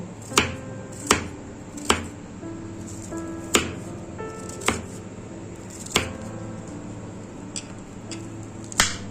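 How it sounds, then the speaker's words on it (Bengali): A knife chops banana flower (mocha) into small pieces on a board, producing sharp, close, irregularly spaced taps roughly every second, some loud and some lighter, with no talking. "আর যেই ভিতরের এই অংশটা, এটাও কিন্তু আমি ছোট ছোট করে কেটে নেব।"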